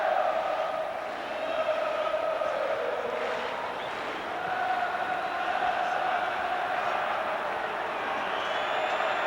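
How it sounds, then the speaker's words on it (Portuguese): Fluminense supporters fill the stadium with a sustained, loud crowd roar and chanting during the 1998 Campeonato Carioca match against Vasco, steady throughout with slight swells. "Faz festa a torcida tricolor."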